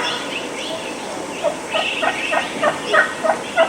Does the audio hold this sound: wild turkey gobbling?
yes